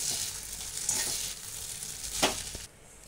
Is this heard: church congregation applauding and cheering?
no